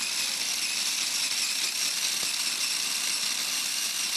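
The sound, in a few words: grinder grinding aromatic spices into dust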